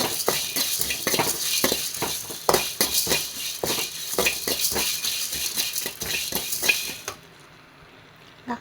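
Fennel, cumin, pepper and cinnamon dry roasting in a pan, with a rapid run of dry rattling and the scrape of a utensil against metal, close and busy, ending in near silence.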